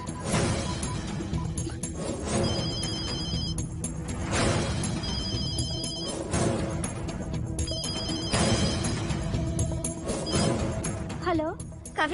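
A phone's ringtone chimes repeatedly in regular bursts over a busy background of music and voices in a Hindi-dubbed horror film, fairly loud throughout.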